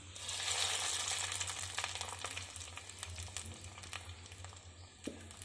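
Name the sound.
cashews and raisins frying in ghee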